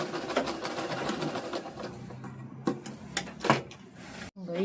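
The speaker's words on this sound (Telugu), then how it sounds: "పీకో మిషన్ మీద ఫాల్ కుట్టుకోవచ్చు" A pico machine stitches the fall onto a saree, a steady mechanical whir with rapid stitching pulses at close range that fades out partway, followed by a few sharp clicks and taps.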